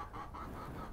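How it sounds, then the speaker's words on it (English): Chickens in a garden give soft, low clucks, a short close murmur of repeated fowl calls with no talking over them. "Hey, chickens."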